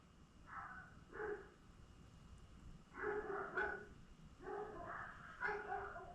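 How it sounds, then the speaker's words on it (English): Dogs bark in short bursts from somewhere inside or just around a house, several irregular clusters of barks at moderate distance, fairly quiet, with no talking over them. "sorry about the dogs barking"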